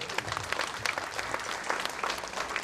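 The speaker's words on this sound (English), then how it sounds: "So let's give them a big round of applause." Applause from the audience at a women's summit session, a steady, moderately distant wash of many clapping hands with no talk over it.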